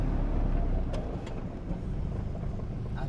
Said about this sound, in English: the exhaust is not really loud even when you full boosting it. Yeah. It just has a deep note.